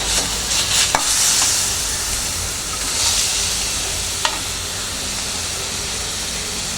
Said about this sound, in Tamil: நம்ம கிளறி விடலாம்.